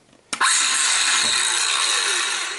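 A Craftsman cordless circular saw switches on abruptly and runs steadily at full speed, a loud continuous high-pitched whine with no talking.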